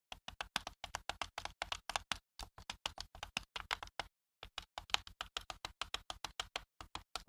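Routing cursor keys on a Focus 40 braille display clicking in a quick, fairly regular run of sharp taps, with a short pause around the middle before the clicking resumes; close and dry, with no talking.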